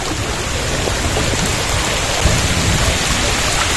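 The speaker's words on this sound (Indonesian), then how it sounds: "hujan-hujan deras nih. Deras." Heavy rain pours down steadily beside a riverside tree cabin, a dense, loud, continuous wash with a low rumble of thunder rolling in midway and no voices.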